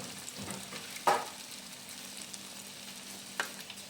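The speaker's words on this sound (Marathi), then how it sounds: "आता आपलं तेल तापलेलं आहे। आता आपल्याला असं तळून घ्यायचं आहे।" Breaded chicken lollipops deep frying in hot oil, giving a steady low fizz with a couple of sharp clinks or spatters close by, no talking.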